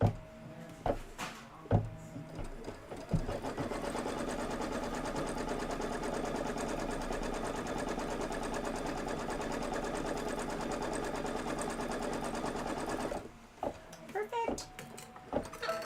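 An embroidery sewing machine stitches a quilted house design, running in a steady mechanical whir for most of the span, with brief handling and talk before it starts and after it stops.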